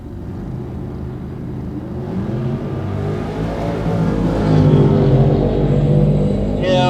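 Bracket drag racing cars, a Jelly Bean Chevette and a 1969 Barracuda Notchback with a Gen 3 Hemi, rumble and rev loudly at the line, the engine roar building as they launch, with a voice faintly under it.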